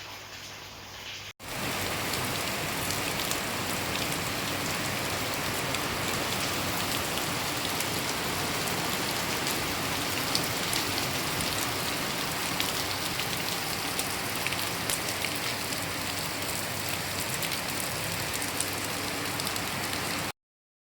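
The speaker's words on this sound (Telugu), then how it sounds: "అసలు మస్తు వర్షం పడ్డది" Heavy rain pours down steadily and loudly for about twenty seconds, a dense unbroken hiss of drops that starts abruptly after a brief quiet moment, with no voices.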